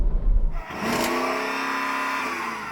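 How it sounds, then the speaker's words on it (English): Naturally aspirated V8 in an SUV revving, a single rising blip that climbs in pitch and then holds a steady high drone, heard close after a brief low rumble. "we've both got naturally aspirated V8s, Jan. We should do a rev test. So I'm going to rev up this one"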